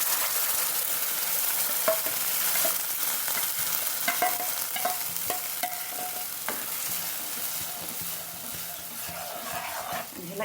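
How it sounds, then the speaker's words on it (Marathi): Paste sizzles and fries in a hot pan with whole spices while a spoon stirs and scrapes steadily, a close, continuous crackle with soft clinks throughout. "आता आपण यामध्ये जी पेस्ट केली आहे ती घालू"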